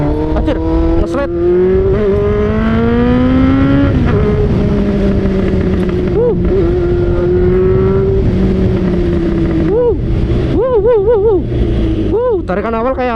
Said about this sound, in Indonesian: Jadi knalpot ini memang agak nahan di tarikan awal guys